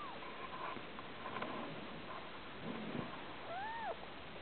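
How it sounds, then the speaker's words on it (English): Newborn kittens give faint, thin, high mews, clearest as a couple of rising and falling cries near the end, over a soft steady background hiss. "And then meowing."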